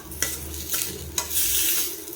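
Spices, including coriander powder, are stirred in a hot pan for brinjal puli kulambu, a spoon scraping in a few distinct strokes over a steady sizzle, close and fairly loud.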